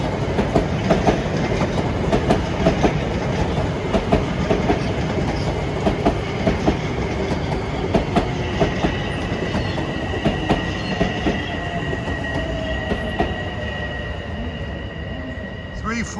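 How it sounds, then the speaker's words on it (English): An LIRR freight led by PR20 and MP15AC locomotives hauls hopper cars along the Main Line, close and loud with steady rumbling, rhythmic wheel clicks and squealing wheels, fading slightly toward the end. "PR20 and an MP15AC with a lot of graffiti covered hoppers."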